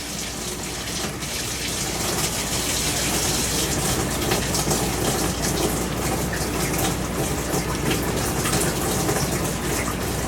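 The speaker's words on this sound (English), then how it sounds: "See the water gushing through" Water gushes steadily and loudly through household water lines after a filter change, a continuous close rushing flow with no pause.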